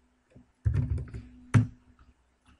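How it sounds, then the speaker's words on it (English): Keys tapped on a computer keyboard while entering a ticker symbol: a short burst of close clicks, a clustered run followed by a sharper press and a few scattered light taps. "I just type the ticker symbol for gold"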